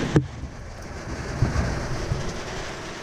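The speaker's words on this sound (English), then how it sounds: "try when it's not pissing down rain" Steady, dense rain hiss fills the recording without pause, with a few low thumps and knocks breaking through; no voices are heard.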